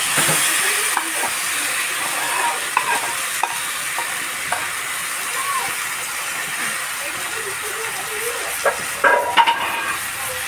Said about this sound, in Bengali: মাংসটা কষানো প্রায় হয়ে গেছে